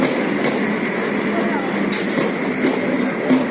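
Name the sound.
Sealdah-bound train arriving at a railway station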